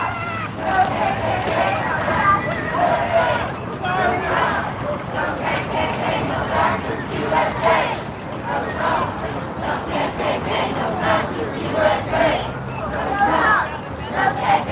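A large protest crowd at a No Kings rally in Portland, Oregon, with a continuous babble of many voices and rising, swelling cheers and shouts, with a nearby voice talking over it.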